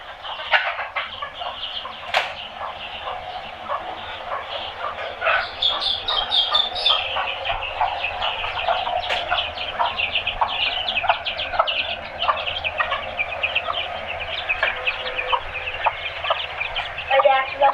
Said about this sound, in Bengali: মুরগি ছেড়ে দেবো